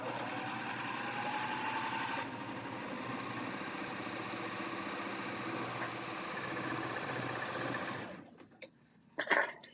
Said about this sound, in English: Let's stitch one more pin tuck.